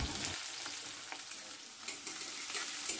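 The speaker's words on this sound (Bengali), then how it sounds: "পেঁয়াজটাকে 2 মিনিট সময় নিয়ে ভালো মতো ভেজে নেব।" Two medium chopped onions fry in a pan with slit green chillies for chana masala, giving a steady close hiss with a few light stirring scrapes and no talk.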